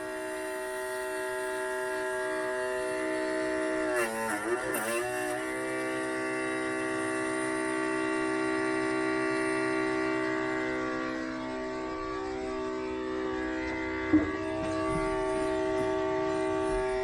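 A smoke machine used to find vacuum leaks on a 1967 Mustang with a 390 engine hums steadily at close range. The drone is broken by a brief rattle early on and a single knock later.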